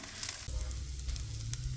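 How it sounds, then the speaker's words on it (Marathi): Dried coconut roasting with onion on a hot iron tawa for a Malvani drumstick and potato curry masala, giving a steady close sizzle with a low rumble and a few scraping stirs. "आता मी याच्यामध्ये खोबरं टाकते"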